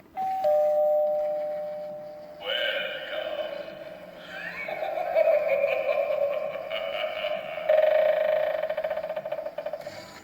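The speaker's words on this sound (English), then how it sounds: "Oh, we got John's doorbell." Doorbell at John's house playing a loud electronic chime melody of several changing tones, continuous for around ten seconds.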